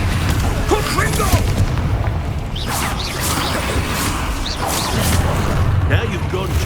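Confringo spell blasts in Hogwarts Legacy combat, with booming impacts, whooshes and crashes layered over continuous loud game action and brief voices.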